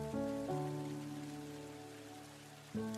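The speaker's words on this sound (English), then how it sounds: "They got that ambient, that rain ambiance in the background." Soft rain ambience layered into a music track, a faint hiss of falling rain beneath sustained tonal notes, quiet throughout and with no voices.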